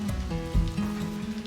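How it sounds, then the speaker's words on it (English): Rain patters on the tin roof of a remote cabin as a continuous soft drumming, with a low thump partway through and a faint steady hum underneath. "raindrops gently hitting the tin roof has got to be my favorite soundtrack"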